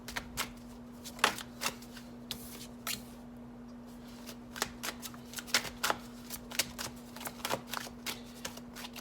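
A Bianco Nero tarot deck by Marco Proietto is being shuffled, giving a quiet series of crisp riffles and card snaps in irregular bursts over a faint steady hum.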